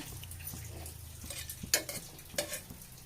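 Cardamom, cloves and cinnamon are stirred while roasting in a hot pressure cooker, giving a soft sizzle and scraping, then a few sharp metallic clinks near the end, with no talking.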